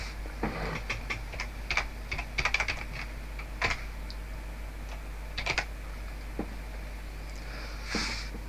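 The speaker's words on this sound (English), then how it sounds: "type in a word or label directly into the Insert Group Name window like this" Someone types a word on a computer keyboard, quiet clicking keystrokes in small irregular bursts with brief pauses, heard close over a faint steady hum.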